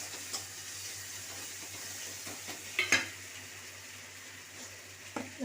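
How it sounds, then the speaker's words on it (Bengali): Ground coriander and cumin paste fries in oil in a pan for a spiced egg curry, a soft steady sizzle with occasional stirring scrapes and a few sharper clinks of the spoon against the pan, close and fairly quiet. "দিয়ে আবার একটু নাড়বো।"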